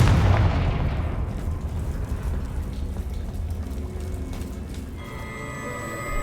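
Confringo fire spell blasting in Hogwarts Legacy, a heavy booming explosion that opens loud and decays into a long rumbling tail, followed by faint magical chimes.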